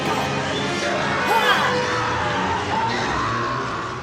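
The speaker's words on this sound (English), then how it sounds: "Now we're hearing him screaming." Screaming from the horror film Alien plays loud and continuous as a dense wash of shrieking voices, heard through the film's soundtrack.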